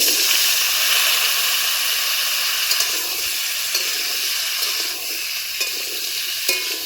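Chopped mango drops into hot oil with panch phoron and a dried red chilli for a sweet-sour mango pickle, giving a steady, loud, close sizzle with a few faint clicks of stirring.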